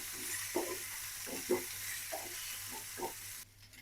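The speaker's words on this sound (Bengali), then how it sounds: "লাল লাল করে ভেজে নেব ফুলকপি।" Cauliflower fries with turmeric in oil in a pan as a soft, steady sizzle, broken by about six rhythmic stirring scrapes, then cuts off abruptly near the end.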